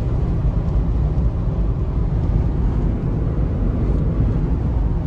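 Strong winter blizzard wind gusts around a Fiat driving on a snow-covered road in Latvia, a loud, steady roaring rush with deep rumble throughout and no pauses.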